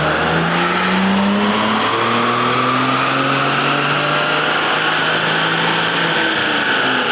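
A BMW 335i running a JB4 map 7 tune revs hard on a dyno, the engine note climbing steadily through a sustained wide-open pull, loud and close with a droning roar throughout.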